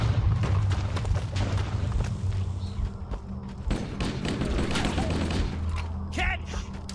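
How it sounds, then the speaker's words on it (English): Rapid, relentless explosions and gunfire in the video game Halo on Legendary difficulty, a dense, loud barrage of booms and thuds layered with game sounds and a voice speaking. "There's just explosion after explosion after explosion."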